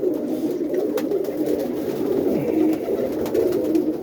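Young roller pigeons cooing at a feeder, a steady murmur of soft overlapping coos from several birds close by, with a few faint clicks and flutters, no voices.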